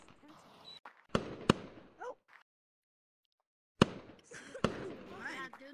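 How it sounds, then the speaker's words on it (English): Fireworks bursting in the online VR game Gorilla Tag on the Fourth of July, with two sharp bangs close together near the start and two more after a silent gap, among crackling, with faint talk. "that was the last firework"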